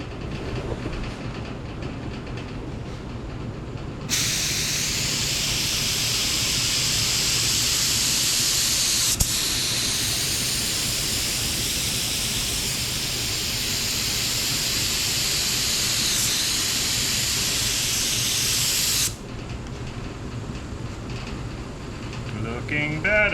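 A spray gun lays a running paint coat on the trunk of a 1969 Dodge Charger R/T, a loud, steady hiss that starts abruptly, holds for about fifteen seconds, then cuts off over low background hum.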